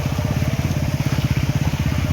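A motorcycle engine runs steadily close by, its low, rapid put-put pulsing evenly throughout with no voices.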